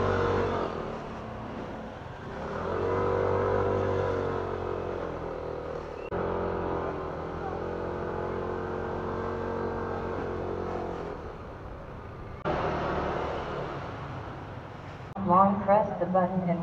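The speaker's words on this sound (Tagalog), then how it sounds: "Grabe, ang traffic dito" Busy road traffic in Baguio City, with a steady rumble of car and motorcycle engines and passing vehicles close by throughout, sometimes covered by people talking nearby.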